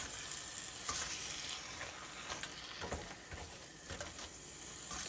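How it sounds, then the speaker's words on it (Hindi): Chicken mince seasoned with ground black pepper fries in a pan, a dense, continuous sizzle close by with scraping stirs and occasional sharper clicks of the spatula. "चिकन का कीमा भूनते भूनते ही गल जाता है"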